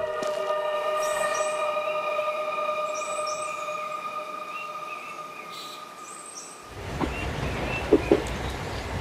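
A train on rails sounds a long, steady, tonal horn-like drone, then gives way to a louder rolling rumble with a few sharp clanks near the end.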